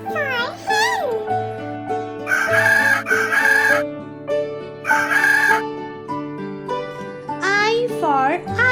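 A rooster crows in a children's alphabet phonics nursery rhyme, several loud cock-a-doodle-doo calls over a bright, steady musical backing, joined by sung child vocals and a brief cluck.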